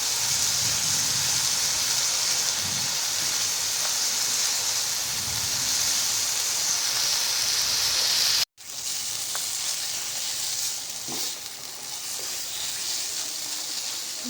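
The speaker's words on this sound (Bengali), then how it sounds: "এবার মশলাটাকে ভালো করে কষিয়ে নেব।" Spice paste for a bata fish curry sizzles and fries steadily in a pan, a loud continuous hiss with a brief break partway through and no talking.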